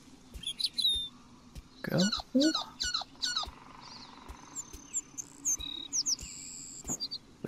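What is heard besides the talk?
bird chirping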